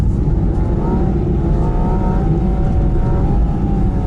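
A Porsche Cayman GT4 RS running on e-fuel drifts on a track, its engine roaring loud and close with revs that climb and fall steadily throughout, and no voices.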